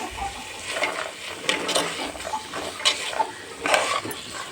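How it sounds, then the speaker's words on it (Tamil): Green peas are stirred into a pan for matar pulao with a spoon, producing soft scraping and light clinks of metal over a faint, steady sizzle, close and moderately quiet. "பட்டாணியை அதோட கூட சேர்த்துடலாம் அதையும் கலந்து விட்டுறேன்"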